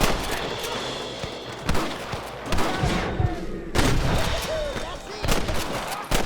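Gunshots crack out in a Red Dead Redemption shootout, several sharp loud reports spaced irregularly among shouted character voices and battle noise.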